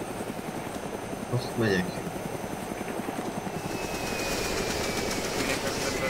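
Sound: helicopter landing in DayZ Epoch video game

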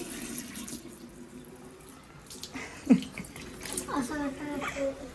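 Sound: water running from a tap into a wash basin

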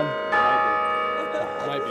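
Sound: church bells ringing during a wedding ceremony

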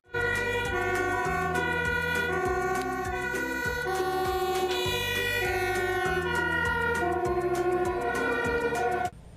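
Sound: fire truck siren

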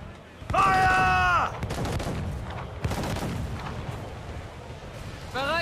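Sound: cannon broadside firing from a ship in Assassin's Creed IV video game

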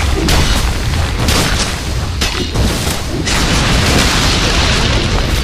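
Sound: Dota 2 tower destroyed, explosion from a video game

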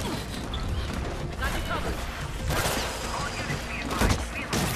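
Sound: turret gunfire in the video game Mirror's Edge Catalyst

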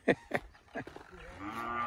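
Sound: cow mooing in a corral

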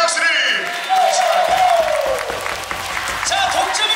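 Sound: volleyball arena crowd applauding player

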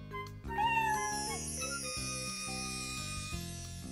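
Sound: kitten meowing

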